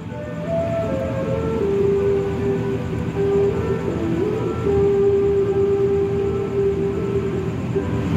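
The Argo Bromo Anggrek train passes on an Indonesian rail line with a steady low rumble and a long sustained horn-like tone that holds and wavers across several seconds.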